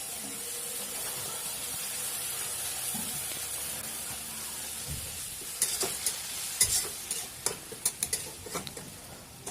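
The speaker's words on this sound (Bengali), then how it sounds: "দেওয়ার পরে আপনি এটা কিছুক্ষণ নাড়িয়ে নেবেন।" A spoon stirs fish do pyaza curry in a hot pan, with a steady frying sizzle under a run of sharper scraping strokes that grow busier toward the end; no voices.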